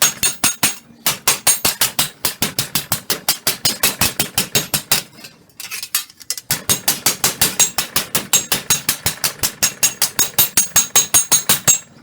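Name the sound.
hammering copper sheet on steel block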